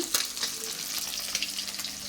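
Fish frying in a pan on a home kitchen stove gives a steady, close crackling sizzle with small pops, continuous throughout, no voices.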